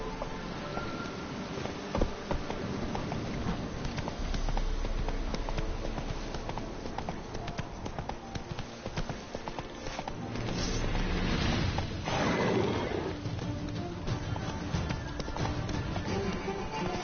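Roach, the horse in Witcher 3, gallops in a steady rhythmic clip-clop of hooves, continuous and fairly loud against a low game ambience.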